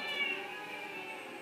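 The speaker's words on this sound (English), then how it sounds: "I don't know if they know that that's not just a normal cat." A cat meows in the Lego Harry Potter video game, a single drawn-out, clear meow heard close and alone.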